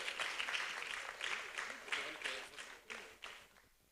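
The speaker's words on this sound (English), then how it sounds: "Please clap for him." Audience applause at a World Data Privacy Day celebration, a patchy stretch of clapping that swells and fades in uneven bursts over a few seconds, with a voice speaking through parts of it.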